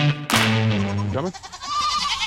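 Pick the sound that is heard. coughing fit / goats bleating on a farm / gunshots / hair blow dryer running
goats bleating on a farm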